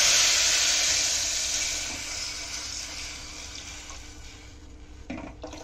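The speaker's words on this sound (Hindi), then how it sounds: "यहाँ पे ये मैं इमली का जो मैंने पानी बनाया हुआ है ये मैं वो डाल रही हूँ" Tamarind water pours into a pan for a sauce, a loud, steady liquid hiss and splash that slowly fades, ending with a few soft clinks.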